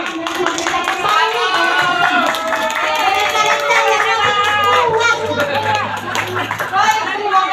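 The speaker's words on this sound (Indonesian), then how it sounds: "Kita kasih tepuk tangan segitiga." A group claps together in a rhythmic patterned clap at a teachers' session, mixed with lively chatter and voices throughout.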